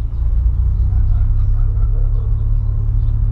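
Manual car pulling away from a stop while the driver eases off the clutch and presses the accelerator, a steady loud low engine drone that holds level throughout, with faint background sounds above it.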